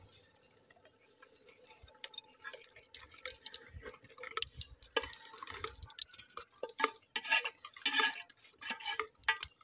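Ghee is poured into a pan to fry spinach and onion pakoras, giving quiet, intermittent liquid drips and splashes with a few light clinks of cookware, close up and without speech.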